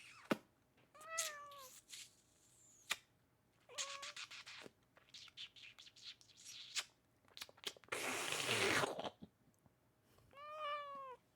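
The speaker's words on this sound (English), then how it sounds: "Kitty." A pet cat meows several times in a quiet indoor room, its rising and falling cries spaced apart, with a burst of rustling partway through.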